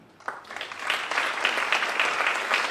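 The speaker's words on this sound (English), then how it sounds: "we'll give them a round of applause anyway" Audience at a high school senior awards ceremony breaking into applause that builds quickly from a few claps into steady, even clapping.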